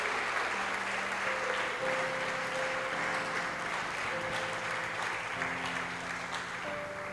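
A church congregation applauds in a steady, sustained wash of clapping, heard from a distance and rather faint, with sustained musical tones playing underneath.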